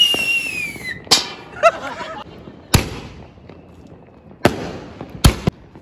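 Diwali firecrackers in Dehradun burst after their box tips over, starting with a rising whistle, then five sharp, loud bangs at irregular intervals, each trailed by crackling. Voices murmur faintly underneath.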